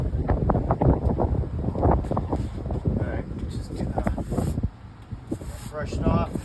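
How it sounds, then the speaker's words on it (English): Gusty outdoor wind buffets the microphone with rumbling bursts ahead of extreme weather during AC coil cleaning, while someone talks throughout. "The wind is picking up a touch."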